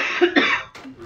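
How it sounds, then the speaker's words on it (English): A person coughs in a short, close burst of harsh coughs right beside the microphone, with no talking. "Sorry for coughing"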